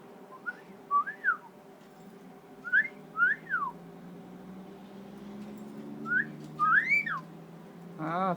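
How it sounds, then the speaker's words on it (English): A cockatiel gives rising-and-falling wolf whistles in several separate pairs, clear and fairly near, over a low steady indoor hum. "Come on, give us a woof whistle."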